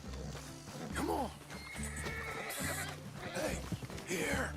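Horses in Red Dead Redemption 2 neigh and whinny several times over steady clip-clop hooves, close and fairly loud, with a rider's low voice heard among the game sounds.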